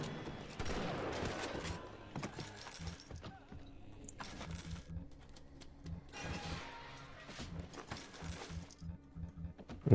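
Shotgun blasts in the video game BioShock Remastered, several sharp booming shots spread across the stretch amid rattling, clattering game effects, with no speech.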